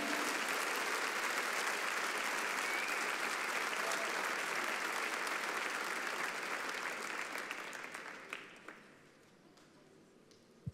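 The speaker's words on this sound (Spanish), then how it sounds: "Denle un aplauso bien fuerte a Jesús" A church congregation applauds loudly during a sermon, a thick, even wash of many hands clapping that holds strong for several seconds, then tapers off into scattered claps and a quiet room.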